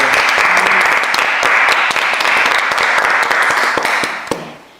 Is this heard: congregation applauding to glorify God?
yes